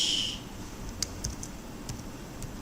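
Keyboard keys tapped a few times at a computer to press Ctrl F, giving soft, close, isolated clicks scattered over a faint background hiss, with no talking.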